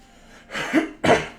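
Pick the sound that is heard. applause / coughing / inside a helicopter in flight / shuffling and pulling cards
coughing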